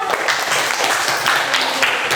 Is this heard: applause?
yes